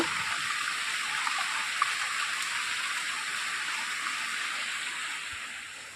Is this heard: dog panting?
no